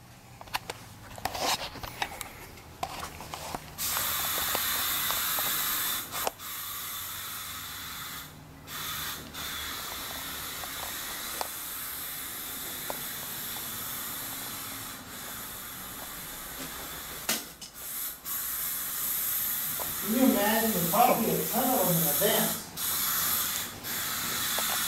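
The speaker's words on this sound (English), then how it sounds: "And I'm going to spray in here." A long, continuous aerosol spray of insecticide hisses inside a cluttered, roach-infested rental, with brief breaks and faint clatter. Near the end some muffled sounds come through.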